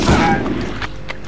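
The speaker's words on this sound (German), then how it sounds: "Und du schießt jetzt durch die Wand." A loud burst of gunfire from the PS1 shooter Medal of Honor, firing through a wall, gives one heavy blast that trails off into a few sharper cracks over low rumble.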